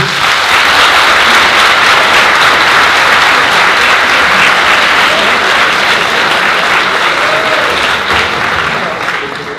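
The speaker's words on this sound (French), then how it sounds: "je vais vous demander à l'applaudimètre, forcément, d'applaudir si vous connaissiez Monsieur Boniface" A conference audience applauds loudly and steadily for nearly ten seconds, a dense wash of clapping with a faint voice or two underneath, tapering slightly at the very end.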